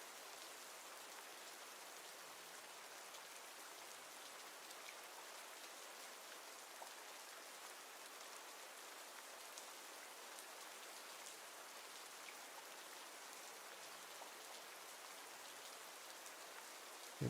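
Steady rain pattering on surfaces, a dense, even hiss of drops holding at one level throughout with no voices.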